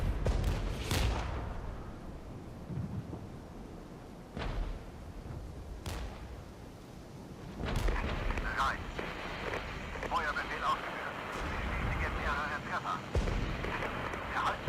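Artillery shells burst repeatedly across a Regiments battlefield, with several sharp booms and crackling impacts spread over the scene under steady low rumble, while someone talks over the action.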